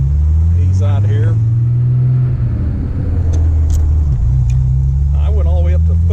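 A 1959 Austin Healey 100-6 pulls away from a stop with a steady low engine drone that climbs in pitch, then drops twice as it shifts from first straight to third, while voices briefly talk over it.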